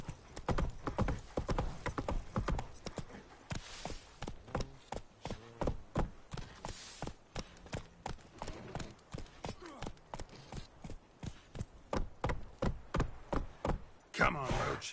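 Horse hooves pound in a steady galloping clip-clop through The Witcher 3, loud and close throughout, with a snort or whinny and bits of game dialogue in the background.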